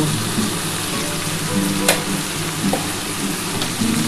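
Spices, chili powder, turmeric and a pinch of sugar fry in a pan for a spicy poppy-seed dish of ridge gourd, potato and onion, a steady loud sizzle with a few stirring scrapes and clinks throughout.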